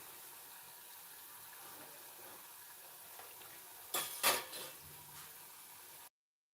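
Punugulu made from idly rava batter frying in oil over a medium flame, a soft, steady sizzle with a brief burst of utensil clatter near the end before everything goes silent.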